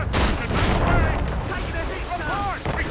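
Ship cannons fire in the video game Assassin's Creed Rogue, with heavy, rumbling booms overlapping into a continuous loud barrage and a faint voice in the mix.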